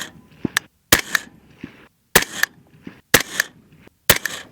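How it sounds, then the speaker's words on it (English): Rifle shots in 6mm ARC or .223 fired at a range toward targets 100 meters out, about five sharp, loud cracks spaced roughly a second apart, each followed by a short echoing tail. "We're shooting at 100 meters."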